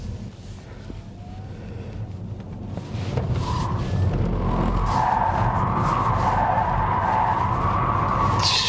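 A Kia EV6 GT electric car drifts with its tires skidding and squealing, a sustained screech that builds after about three seconds and holds loud and steady beneath the hum of the motor.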